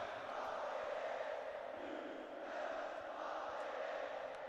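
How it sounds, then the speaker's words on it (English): A stadium crowd in the NCAA Football 10 video game roars as a steady, dense wash of cheering that holds at an even level throughout, with no talk over it. "Listen to the crowd. They're fired up."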